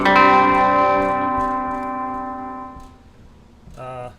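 A rich guitar chord rings out through a Ventris Dual Reverb pedal's room reverb and slowly decays into a roomy reverb tail, with a fresh note plucked near the end.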